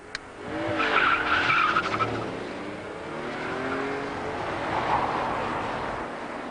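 Rear-wheel-drive Vauxhall Omega driven with traction control on, its engine revving and tyres briefly squealing as it accelerates, then a steady engine drone fading slightly toward the end.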